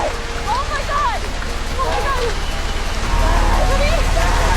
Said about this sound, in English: Just then, the sky opens up in a heavy downpour.